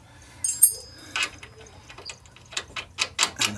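Ratchet clicks in short bursts while a bolt is tightened on a Jeep TJ rear bumper, close and fairly quiet with small metallic clinks in between.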